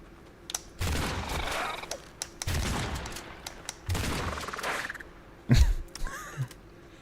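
Shotgun blasts in the AILA horror game, several loud broad bursts spaced about a second apart, each with a short rolling tail, ending in a sharp heavy low thump.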